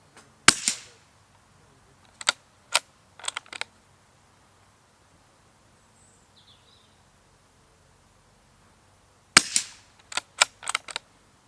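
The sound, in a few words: Hatsan Escort .22 LR rimfire rifle shots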